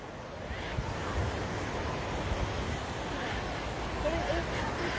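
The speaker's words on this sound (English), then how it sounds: "So this is the world famous Waikiki Beach." Surf and wind at Waikiki Beach, Hawaii, a continuous broad rush of waves with wind buffeting the microphone and faint distant voices beneath.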